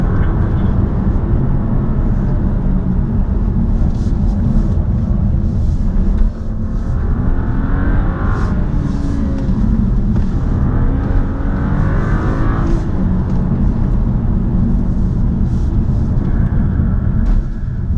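BMW 3 Series cars run on a performance driving track, a steady, loud engine drone with slow rising and falling sweeps as the cars accelerate and pass, heard alone without speech.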